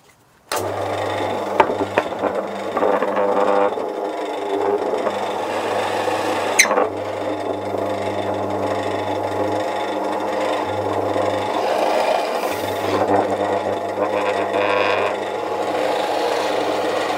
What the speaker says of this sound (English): I'm going to drill holes that are going to be big enough to take the plugs